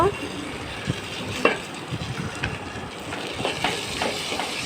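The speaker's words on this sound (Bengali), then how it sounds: "আদা রসুন ওর মধ্যে দিয়ে দিলাম দিয়ে নাড়াচাড়া করে নেব" Ginger and garlic are stirred in a frying pan for a chicken and potato curry, soft sizzling under repeated scraping clicks of a spoon against the pan, close and moderately loud.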